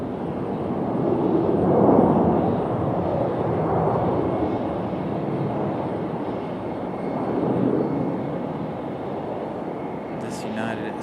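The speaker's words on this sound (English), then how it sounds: "737-700 coming in from Houston." A United Boeing 737-700 arriving from Houston touches down at Raleigh-Durham, its broad jet roar steady and fairly close, swelling slightly near the start and again later, with faint chatter over it.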